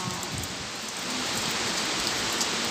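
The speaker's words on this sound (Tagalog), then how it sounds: "Since yesterday until today, still heavy rain." Heavy rain pouring in Hong Kong during a storm, a dense, steady hiss of downpour that swells slightly louder partway through, with no voices.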